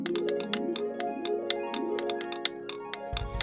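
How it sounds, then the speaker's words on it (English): Rapid, irregular light tapping of pencils drummed on a surface in a children's cartoon, crisp clicks over a faint tonal background with no talking. "he used his pencils to play the drums"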